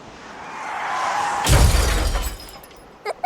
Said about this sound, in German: Hört mal, wie schön das Meer, das Originalton